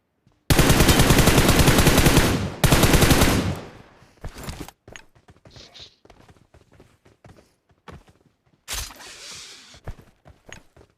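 Automatic gunfire in the battle royale game PUBG: two long, loud bursts of rapid shots, then scattered lighter clicks, thuds and footsteps, followed by a final short burst near the end.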